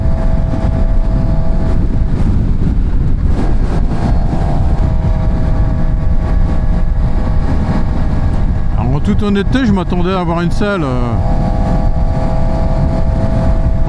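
A 2026 QJMOTOR SRK 421 RR four-cylinder motorcycle engine drones steadily while riding, heavily buffeted by wind noise, with a rider talking over it almost the whole time.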